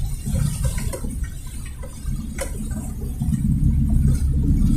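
Floodwater surges across a flooded city road between Makati and Pasig in heavy rain, a loud continuous close rushing wash that swells slightly toward the end, with no voices.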